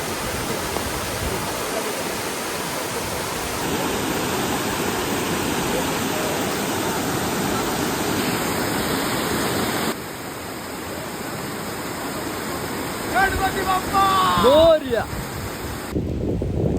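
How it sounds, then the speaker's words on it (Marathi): A loud, steady roar of rushing water from a big waterfall at Darya Ghat near Junnar fills the clip, broadband and constant, with some clattering noise near the end. "हा मोठा धबधबा आहे"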